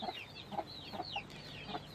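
A rooster and chickens cluck softly in a short series of quick calls, a few bursts spaced about half a second apart, with faint background noise, in Samandağ, Hatay.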